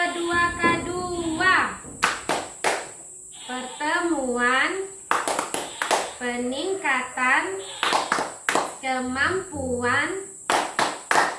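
A group claps a rhythmic pattern for a training-session chant, with crisp claps landing in short clusters between phrases the group chants together.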